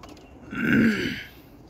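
One low, throaty coo from a roller pigeon cock, swelling and fading over about a second, close by, against a soft background hum.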